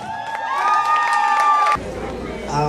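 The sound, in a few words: audience applause and cheering for Yoruba bride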